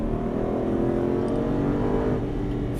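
An Aston Martin Vantage on the Dreux race circuit accelerates, its engine a loud, steady harmonic drone that builds smoothly with no talking over it.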